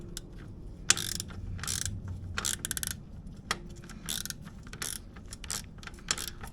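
A 12mm ratchet wrench tightens an exhaust screw on a stock Triumph bobber motorcycle, making close, crisp bursts of rapid clicking in short repeated strokes with brief pauses between them.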